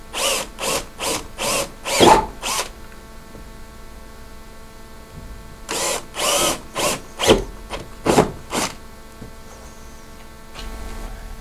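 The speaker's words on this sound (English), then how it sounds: "Take a 3/8 inch drill bit, and we'll drill this plastic." A 3/8 inch drill bit bores through plastic on an ArmorTech door kit for a CF Moto U-Force 1000, the power drill sounding in loud repeated short bursts, then a second cluster of pulses after a quiet pause.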